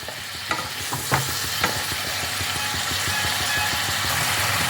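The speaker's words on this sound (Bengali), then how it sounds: "মশলাটাকে ভালো করে মিশিয়ে এখন ভালো করে কষাতে হবে যতক্ষণ না মশলা থেকে তেল ছাড়তে আরম্ভ করে" Spice paste for a vegetarian cauliflower dalna is stir-fried in a pan, with a constant close sizzle under repeated rhythmic scrapes of the stirring spoon and no voices.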